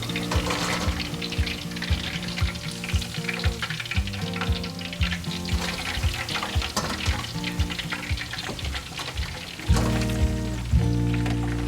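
Flour-coated pork ribs deep-fry in a pot of oil, a continuous bubbling sizzle with a steady rhythmic pulse running beneath, close and moderately loud throughout.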